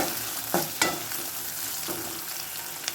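Onion frying with salt in a pan for a drumstick flower stir-fry, a steady close sizzle with a few distinct spatula scrapes and taps as it is stirred.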